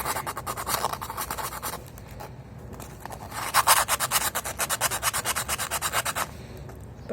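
Sandpaper rubs the end of a distributor rotor arm on an Austin Allegro in quick back-and-forth strokes, a close, rhythmic scratchy rasp that pauses briefly and then speeds into a steady series of even scrubs.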